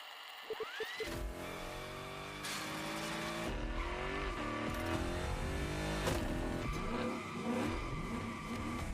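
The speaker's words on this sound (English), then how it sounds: "that's what we call victory donuts" A car in The Crew Motorfest video game spins victory donuts in a burnyard, its engine revving hard and its tires squealing continuously in sweeping loops, loud and close.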